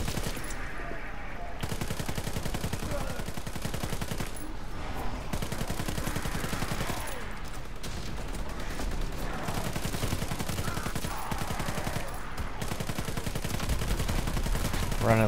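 Sustained rapid gunfire in Call of Duty: WWII zombies mode, dense continuous machine-gun bursts filling the whole stretch, loud and close, with brief gaps and faint voices underneath.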